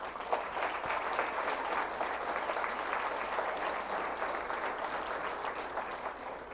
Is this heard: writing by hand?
no